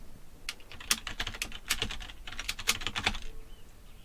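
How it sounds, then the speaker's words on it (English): Rapid keystrokes on a computer keyboard while coding an Android app in Kotlin, a brisk irregular clatter of close, crisp clicks with short pauses, ending with a final key press and no voices. "start typing comp and then hit enter"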